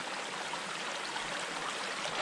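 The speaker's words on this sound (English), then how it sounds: "Fresh spring water." Fresh spring water flowing steadily in the Alaskan mountains, a continuous close broadband rush and trickle with no pauses and no voices.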